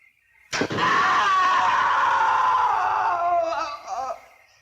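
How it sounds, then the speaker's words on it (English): A sharp impact is followed by a long, loud, sustained scream that fades into a shaky, breaking tail in an old horror film. "You sure I heard a scream?"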